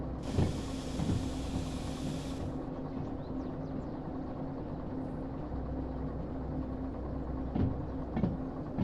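A steady low rumble of a train rolling in the Derail Valley railway simulator, hauling eight cars. A broad airy hiss of braking opens the stretch, then the heavy mechanical drone continues with a few soft clanks, and no one speaks.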